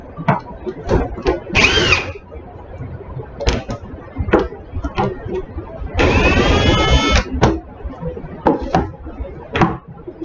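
Two short whirring bursts of a power drill drilling a cabinet, the second longer, among clicks, knocks and talking nearby.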